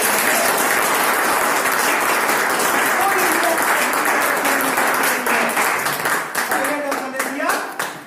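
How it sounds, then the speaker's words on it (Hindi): Loud applause from an audience at a talk by the IMC chairman fills the whole stretch with dense, steady clapping, while voices speak over it and the clapping thins out toward the end. "सर जोरदार ताली बनता है"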